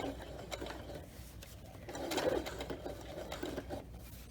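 Sewing machine top stitching a vinyl zipper pouch, running steadily in a soft, even mechanical hum and patter close by, fairly quiet throughout.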